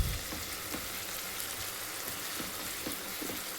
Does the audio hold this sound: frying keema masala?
yes